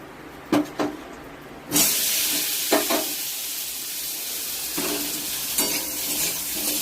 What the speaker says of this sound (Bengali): একটু তেল দিয়ে এবার আলুগুলো ভেজে নেব